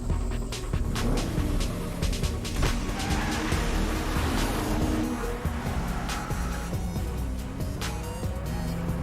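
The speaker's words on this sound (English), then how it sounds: "The new Nissan Maxima, the four-door sports car that's raw, refined, and all you" A Nissan Maxima four-door sports car drives hard, its engine roaring continuously with quick shifts and tire noise, loud and close over a busy backing throughout.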